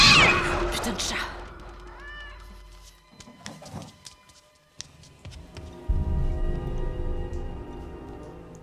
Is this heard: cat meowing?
yes